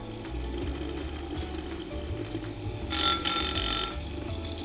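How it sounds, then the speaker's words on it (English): Blender whirring as water is blended with melted oil for a face cream, a continuous motor drone with sloshing that briefly rises and brightens near the end. "start blending your water and then slowly drizzle in the melted oil"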